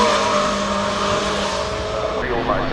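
A Lancia Delta S4 rally car roars past at speed, loud and close, its engine note sweeping through a brief pass at a classic motoring festival hill course.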